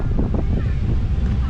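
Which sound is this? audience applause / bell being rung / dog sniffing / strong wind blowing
strong wind blowing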